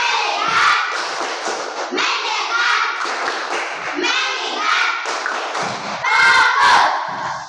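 Schoolchildren in an Indonesian classroom perform a rhythmic focus clapping chant, sharp hand claps and thumps in a steady pattern mixed with loud chanted voices throughout.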